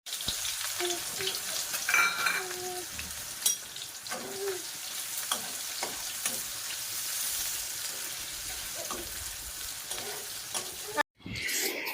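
Goat meat being stirred and fried in a pan, a steady close sizzle broken by scraping stirs and clinks for about twelve seconds, ending in a sudden brief cut with no talk.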